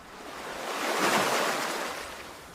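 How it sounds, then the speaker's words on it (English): A single ocean wave washes in and recedes, a broad hissing surge swelling to a peak and fading again over a couple of seconds, with no voices. "Ocean, great ocean, briny madam, mother of the fish, hear my confession."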